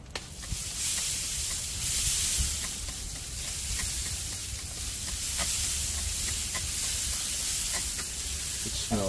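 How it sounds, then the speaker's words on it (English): Pork on a smoker being spritzed, with a continuous close sizzle and hiss and faint crackles throughout, no voices heard. "Let me spritz them."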